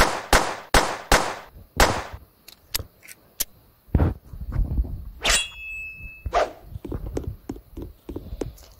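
Gunfire in the Roblox game Hospital Tycoon: a rapid series of sharp, loud shots at first, then sparser cracks mixed with thumps and a bright ringing ding, no speech.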